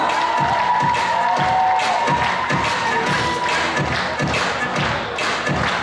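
Sustained audience applause with some cheering fills a hall at a gala concert closing a festival, right after an institute's team receives a second-degree diploma; dense, loud and continuous, with broadband hand-clap texture throughout.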